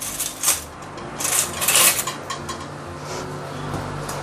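Rice for Chinese fried rice being mixed with about a tablespoon of oil, with a utensil clinking and scraping against a bowl in several bright, uneven bursts at close range and no talking.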